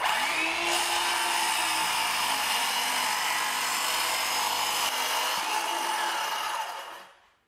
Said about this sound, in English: This one is for ripping plywood. So let's use it to rip this plywood.